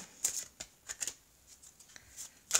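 Tarot cards shuffled and drawn by hand, a series of crisp papery riffles and slaps in irregular bursts, close and fairly quiet, with no speech.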